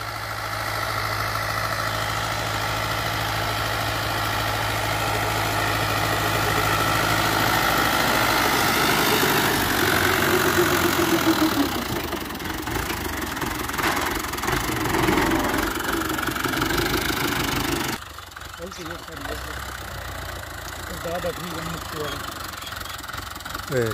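Engine of a 2009 Fiat 640 tractor idling nearby with a steady, continuous low rumble and vibration that continues throughout, dropping slightly in level toward the end; voices can be heard talking over it.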